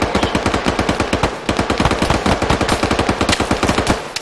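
Automatic gunfire in the video game Arma 3, rapid sustained bursts of loud, close shots in a steady rhythm with a brief pause near the middle, no talk.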